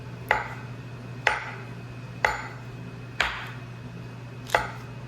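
A knife cuts slices from a stick of butter on a board, giving five crisp, evenly spaced taps about a second apart over a low steady hum.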